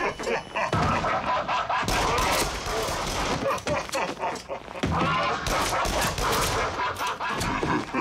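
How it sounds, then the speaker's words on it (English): Gunfire aimed at clowns in a PlayStation VR game, sharp loud shot bursts in quick runs separated by short pauses, with game noise between them. "I should probably shoot these clowns with the real gun"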